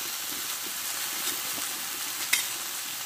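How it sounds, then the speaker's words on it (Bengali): Spice paste of ginger and green chili with sugar and turmeric sautéing in hot oil, a soft continuous sizzle with faint stirring scrapes and one brief sharper clink, fairly quiet. "হলুদ দিয়ে ভালো করে কষে নেব।"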